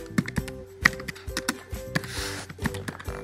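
Computer keyboard keys clatter in quick, uneven bursts of taps at close range, with no one talking.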